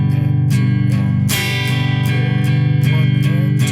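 Steady strummed guitar rhythm with regular strokes, beat three of each bar landing noticeably harder, close and loud with no voices.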